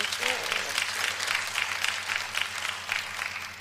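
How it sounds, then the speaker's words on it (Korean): An audience claps in a hall at a sermon or talk show, steady applause with soft rhythmic swells at moderate distance, lasting a few seconds with a voice briefly heard at the start. "박수 쳐, 박수 쳐"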